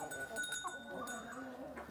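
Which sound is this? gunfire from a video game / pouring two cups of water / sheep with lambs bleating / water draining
sheep with lambs bleating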